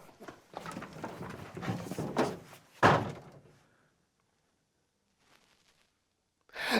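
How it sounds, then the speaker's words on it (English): A door slams with one sharp, heavy thump, preceded by scuffling and rustling movement nearby, then near silence before another shuffle at the end. "just left and slammed the door."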